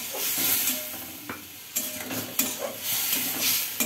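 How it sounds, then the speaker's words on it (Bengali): Fried potatoes are stirred in a hot pan with onion, chilli and ginger paste, giving a continuous bright sizzle broken by intermittent scraping strokes of a spatula close by. "এটা হচ্ছে ভালো করে একটু কষিয়ে নিচ্ছি"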